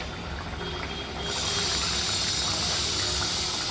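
Bengali fish curry with foli fish bubbling in a pan, a steady hissing simmer that turns louder and denser after the first second and then holds even, close-up with no talk.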